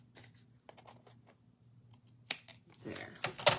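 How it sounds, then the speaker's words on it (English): Scissors snipping through card in a crafting session, a series of short crisp cuts near the microphone with quiet background hum, growing louder and denser toward the end. "I'm going to use my other scissors to do that."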